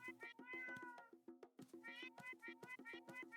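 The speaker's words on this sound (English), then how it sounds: "We can pet the cat." Cat in the video game Hand of Hexes meowing when petted, a rapid string of short, bright, close meows repeating in quick succession, alone without talk.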